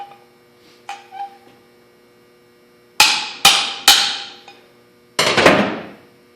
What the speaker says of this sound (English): Be careful not to pound the head right off the table